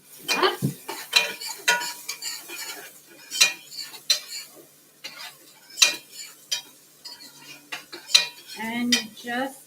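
Diced onions being sautéed on an induction cooktop, heard as a utensil stirring and scraping the pan in irregular taps and clinks, with a soft sizzle underneath.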